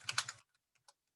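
Quick keystrokes on a computer keyboard: a short flurry of rapid taps followed by a few sparse, isolated clicks in a quiet room.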